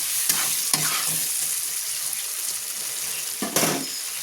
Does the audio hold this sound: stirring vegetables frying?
yes